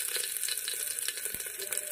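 Taro pieces fry in hot oil in a pan, giving a soft, steady crackling sizzle with small pops, fairly faint and close, with no talking.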